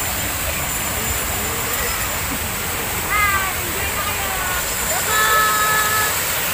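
Water from a natural hot spring in Calauan, Laguna pours down at an outlet, making a steady, loud rushing hiss with faint voices in the background.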